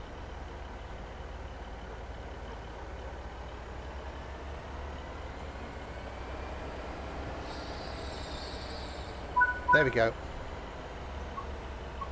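A diesel train engine in Train Sim World 5 on a West Cornwall local line rumbles low and steady in the distance, with a brief burst of clanking near the end and a short spoken phrase over it.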